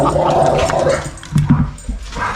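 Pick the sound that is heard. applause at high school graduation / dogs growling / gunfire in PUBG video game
dogs growling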